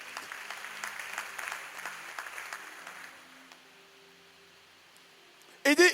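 A church congregation applauding, a moderate patter of clapping that fades into near silence, followed by a brief loud burst near the end.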